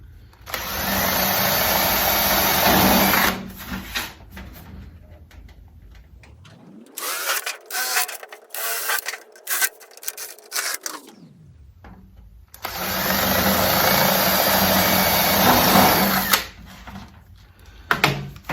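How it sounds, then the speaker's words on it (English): An electric drill enlarging pilot holes in a planter with minimal pressure whirs in two long bursts with a short, rising-and-falling spin-up between them, plus a few scattered clicks and knocks. "Just very minimal pressure on the drill here."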